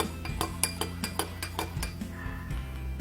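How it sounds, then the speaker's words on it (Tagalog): A spoon stirs a glutathione drink in a glass, tapping and clinking against the sides in a quick, steady rhythm of about a dozen close, bright chinks. "Sige, tingnan natin ibigyan natin ng konting stir."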